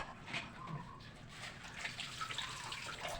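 Tap water runs steadily into a sink while dishes are washed, a soft continuous splashing hiss with faint clinks, heard nearby.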